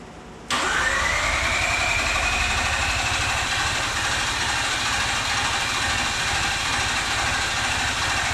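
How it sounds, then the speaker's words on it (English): A Mazda RX8 rotary engine, previously flooded and just deflooded, cranks briefly and fires up, then settles into a loud, steady idle that continues up close. "I'm gonna deflood the engine real quick, and then we're gonna give it another go."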